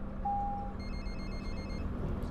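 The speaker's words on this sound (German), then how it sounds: "Das Handy klingelt." A mobile phone rings inside The Bus driving game, a steady repeating electronic tone over a low engine hum of a city bus on route 300 in Berlin.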